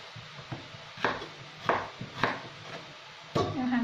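A knife chopping beetroot on a cutting board, six or seven separate crisp cuts at an uneven pace, close by, followed by a scrape.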